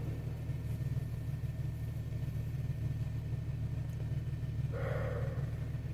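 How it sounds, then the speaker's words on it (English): A car engine idles with a low, steady rumble that holds at a constant level throughout, with a brief faint tonal sound near the end. "I got to turn this engine off and save my gas"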